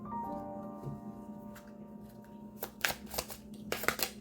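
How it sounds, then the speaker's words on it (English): A deck of tarot cards being shuffled by hand, with a few quiet riffling bursts of crisp paper flicks after a low hum; faint and close, no talking. "I was about to choose a top card, but then I was guided to shuffle again."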